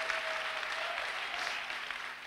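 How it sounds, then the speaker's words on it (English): Steady applause from a church congregation, dense clapping that holds at an even level for a couple of seconds. "Clap for Jesus"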